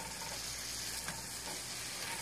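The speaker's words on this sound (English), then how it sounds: "it's starting to sizzle a little bit" Soft, steady sizzling of a turkey burger frying in a pan, an even crackling hiss with no pauses.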